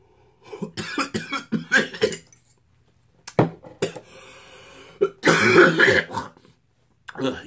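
A person coughing hard after smoking a Gorilla Grapes marijuana strain: loud, close bursts of harsh, repeated coughs and throat clearing in several fits separated by brief pauses.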